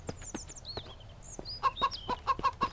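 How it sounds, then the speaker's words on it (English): A chicken in the survival video game Mist Survival clucks in a run of short, sharp bursts, starting with scattered calls and ending in a quick, louder series of clucks near the end. "Oh, that damn chicken. I'm just going to hear him clucking forever now."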